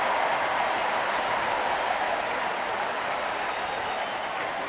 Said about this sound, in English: Got everybody up and cheering a little bit.